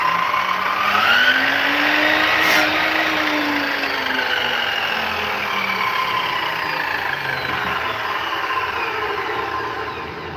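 A power saw cuts wood while building a raised goat bed, a loud sustained whine with a rising and falling pitch sweep that runs steadily through the whole stretch, close by, with no talk over it.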